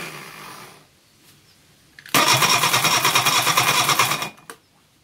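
After a quiet stretch, a carbureted engine on a garage floor with its choke reduced catches suddenly and runs loud and rough for about two seconds before dying away.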